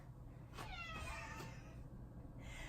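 A cat meows twice, faint and drawn out, with a steady low hum in the background and no talking.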